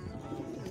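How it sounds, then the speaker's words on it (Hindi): Soft, low cooing from red Madrasi pigeons murmurs continuously through a brief moment, close by with a dense rumbling texture. "देखो लाल मद्रासी कबूतर"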